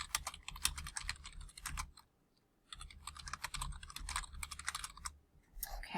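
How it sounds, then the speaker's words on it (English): Fast typing on a computer keyboard, a steady stream of close key clicks with a short pause partway through, at low volume and with no talking. "So I'll go ahead and type in an answer here."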